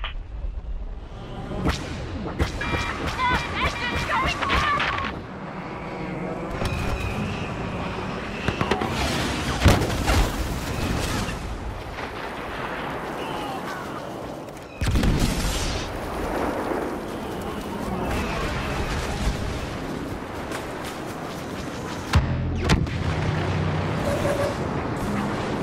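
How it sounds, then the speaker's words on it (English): Star Wars Battlefront combat rumbles with homing missile explosions, whooshing projectiles, sharp blaster cracks and booming blasts overlapping in dense, loud bursts throughout. "Homing missiles after you!"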